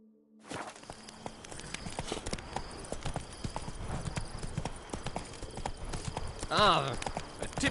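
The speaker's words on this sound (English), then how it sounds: "Whoa there, Roach. Start no brawls." Horse hooves clop at a steady walking pace in The Witcher 3, set over a soft background bed, with a short vocal call rising near the end.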